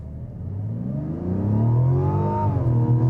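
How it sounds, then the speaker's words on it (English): A 2026 Mazda CX-90 Turbo S SUV accelerating hard, its engine note climbing steadily in pitch with a slight whine at higher revs, heard close and loud without any talk. "It has a slight whine from the engine when you're putting your foot down at higher RPM"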